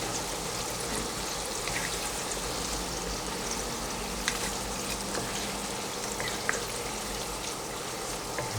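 Steady, dense crackling hiss of pork-filled wontons deep-frying in plenty of oil in a wok, continuous and fairly loud throughout, with a couple of sharper pops near the end.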